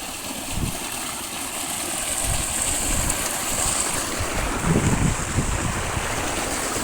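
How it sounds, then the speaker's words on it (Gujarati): Water from a motor pump pipe gushes into a cotton field, a steady broad rushing roar with low rumbling turbulence, close and continuous, with some wind buffeting the microphone. "પાણી ફૂલ આવે છે।"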